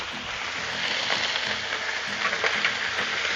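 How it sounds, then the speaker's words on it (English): Mushrooms fry in bacon grease on a Blackstone griddle, giving a loud, steady broadband sizzle with crackling pops throughout and no voices. "Just throw mushrooms in that bacon grease."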